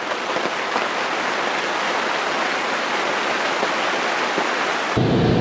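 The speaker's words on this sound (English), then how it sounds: "It's raining. It rained about all night." Steady rain falls outdoors as a dense, even hiss that holds at a constant level throughout, shifting to a heavier, closer patter near the end.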